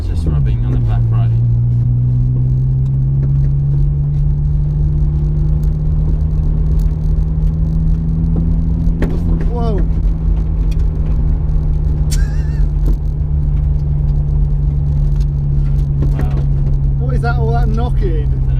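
Honda S2000 on freshly installed 7Twenty coilovers, rear right tire rubbing as the car rolls: a steady low droning whir and rumble throughout, with people talking over it.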